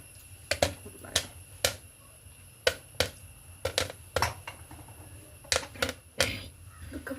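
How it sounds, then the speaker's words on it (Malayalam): Sharp, dry pops go off one after another at uneven intervals, fairly close and loud, like kernels bursting in a hot pan. "ഇത് ചൂടായി ഇപ്പൊ പൊട്ടാൻ തുടങ്ങട്ടാ"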